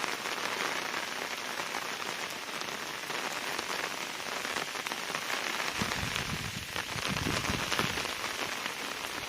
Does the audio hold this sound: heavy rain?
yes